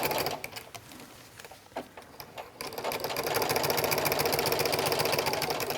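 A sewing machine fitted with a walking foot stitches a waterproof backpack, first in a few short stop-start bursts, then settling into a steady, close mechanical whir at slow to medium speed.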